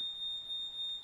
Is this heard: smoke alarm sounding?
yes